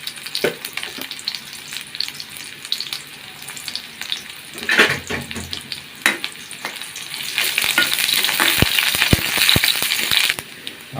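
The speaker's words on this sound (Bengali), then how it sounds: "পেঁয়াজ কুচিটা একটু লাল লাল করে ভেজে নিতে হবে" Chopped onion and a few dried chilies fry in hot oil in a pan for a Bengali sweet pumpkin dish. A steady close sizzle runs throughout, broken by scraping stirs and clinks and growing louder toward the end.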